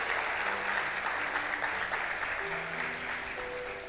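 A church congregation claps for a few seconds during a sermon service, a steady, moderately distant patter with soft sustained keyboard tones beneath it, slowly thinning toward the end.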